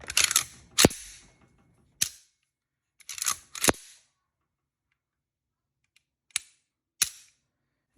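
Dry-firing a Galil ACE rifle after installing an ALG trigger: a series of sharp, close mechanical clacks and snaps, several clustered early and then isolated single clicks spaced apart, with silence in between.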